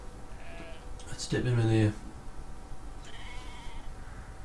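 A sheep in the video game Brothers: A Tale of Two Sons gives a single loud, wavering bleat lasting about half a second, set against a steady game backdrop while someone talks.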